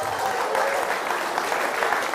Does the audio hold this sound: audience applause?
yes